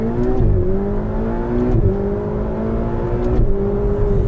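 A Ferrari 488 Spider's twin-turbo V8 drones loudly and close, with the engine note climbing in repeated surges punctuated by brief shift dips, and no voices over it.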